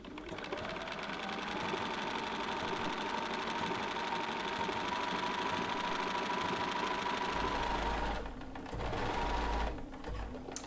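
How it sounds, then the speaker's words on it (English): A sewing machine stitches a blind hem in fabric, running steadily and fairly quietly for about eight seconds, pausing briefly, then whirring again for a short burst. "I'm just going to overstitch by a couple of stitches"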